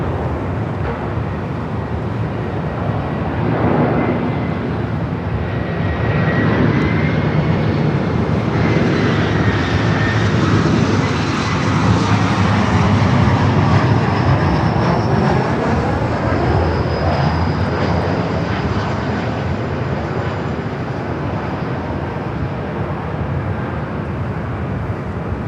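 Delta Connection SkyWest regional jet taxiing at Los Angeles LAX on a hot day, a loud, steady engine whine and rumble with slowly shifting tones and a swell mid-way, no voice.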